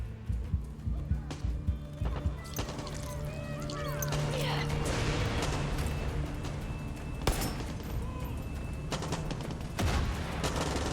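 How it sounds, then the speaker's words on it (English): Heavy gunfire from a Far Cry 6 firefight inside a captured building, with dense, overlapping shots and crashes running steadily for the whole stretch, close and loud, with a brief voice at times. "This actually makes the second time we've had a big firefight in this building"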